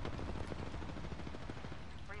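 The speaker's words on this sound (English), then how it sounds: "What the fuck are you shooting at?" Dense, continuous automatic gunfire in a battle royale shooter, loud and close, rapid shots blurring into a steady roar with no pauses.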